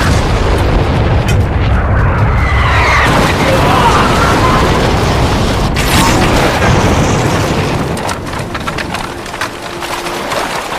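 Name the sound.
cannon and gunfire in film battle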